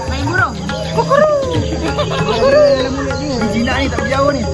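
A tame pet bird chirps and tweets repeatedly in short, bright calls close by, in the cool Cameron Highlands, while people talk and play with it.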